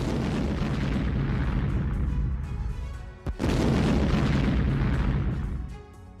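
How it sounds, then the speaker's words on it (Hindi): A bomb blast in a Russian bunker rumbles as a loud, sustained roar of explosion noise, broken briefly by a sharp crack before the thunderous rumble resumes and fades. "रूसी बंकर में यूक्रेनी सैनिकों ने बम गिराया"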